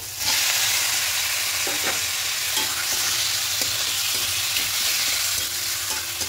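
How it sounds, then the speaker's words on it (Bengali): Meat sizzles hard in a pan with spices while it is stirred during frying for a Bengali goat liver-and-stomach dish. A loud, continuous hiss fills the clip, with scattered soft scrapes and clinks from the utensil, and no voices. "খুব ভালো করে মশলার সঙ্গে মিশিয়ে নেব। এবার ঢাকা দিয়ে দিয়ে মাংসটাকে কষতে থাকবো।"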